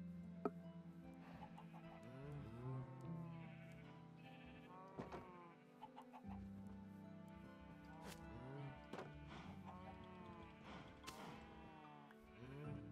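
Chickens cluck on a video game farm, soft and faint, mixed with repeated bleating animal calls that come and go over a quiet game background.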